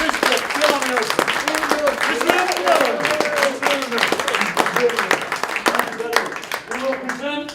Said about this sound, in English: Another round of applause for a genius cartoonist, Mr. John Hilton.